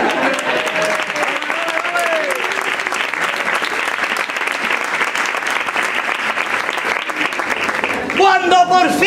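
Steady, dense audience applause fills a Cádiz carnival romancero performance, loud and continuous throughout, with a burst of cheering or voices near the end.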